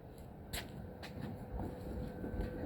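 A 2004 Ford F150 rear axle with play gives a few faint, irregular clicks and knocks over a low rumbling drone, with no talking.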